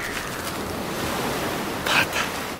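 Ocean waves from a scene in a Korean fantasy action movie, a steady broad wash of surf with a brief louder swell near the end, heard alone.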